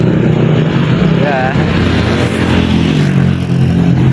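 A steady, loud engine drone from riding among many motorcycles on the road to Pinlak Falls in Infanta, Quezon, with engines humming continuously close by and a voice speaking briefly.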